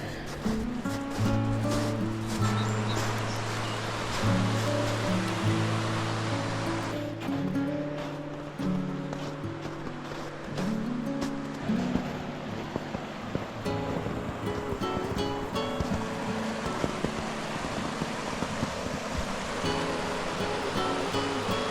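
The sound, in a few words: flooded creek water flowing near a beaver dam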